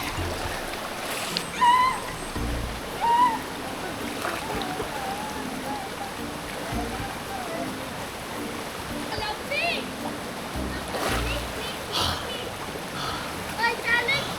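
Water splashing and rushing at a hot spring in Kapatagan, Digos, with intermittent louder splashes over a continuous flowing wash, while children and adults talk and shout nearby.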